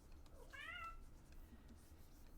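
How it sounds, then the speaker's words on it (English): A pet cat gives a single short meow, faint against a steady low background hum, with no talk. "That was my cat."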